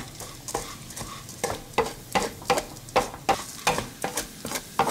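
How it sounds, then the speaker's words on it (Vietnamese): Raw rice is stirred in hot oil over medium-low heat for fish porridge, with a soft sizzle beneath regular scraping strokes of a utensil against the pan, about two per second. "Dầu nóng thì mình cho gạo vào xào. Mình đảo đều với lửa nhỏ vừa nha các bạn."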